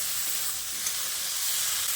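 Okra and potatoes frying together in a pan, a continuous bright hissing sizzle, steady and close with no pauses.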